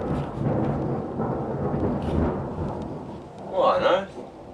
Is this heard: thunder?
yes